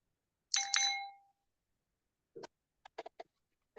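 A bright two-tone notification bell chime rings out clearly, followed after a pause by a few short soft clicks and taps, with no one speaking.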